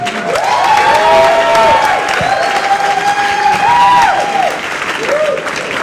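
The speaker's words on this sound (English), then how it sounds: "Big round of applause." Comedy club audience at Gotham Comedy Club in New York breaks into loud, sustained applause and cheering, with whoops and shouts rising over steady clapping for several seconds before easing slightly near the end.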